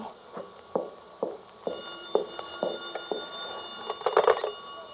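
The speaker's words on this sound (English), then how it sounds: "The phone." An old telephone rings on and off in a quiet room, its tone faint but steady, while sharp footsteps or taps sound nearby.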